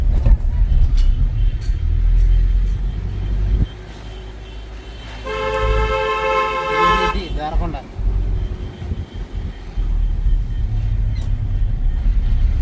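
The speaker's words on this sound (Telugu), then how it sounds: "అది సీలేరు నర్సీపట్నం బస్సు" Sileru–Narsipatnam bus on a rural road, a low engine rumble, then a loud sustained horn blast lasting a couple of seconds as it passes close, fading back to road rumble.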